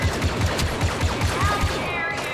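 Rapid blaster fire in Star Wars Battlefront 2 crackles in a fast, regular volley of repeated shots, loud and continuous, with game effects layered over it.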